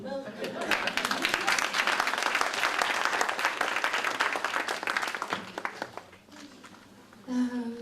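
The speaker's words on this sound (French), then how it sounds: "On va t'applaudir." Audience applause at an association event, a dense, sustained clapping from a crowd that fades toward the end as a voice returns.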